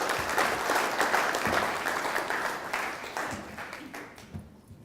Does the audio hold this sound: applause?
yes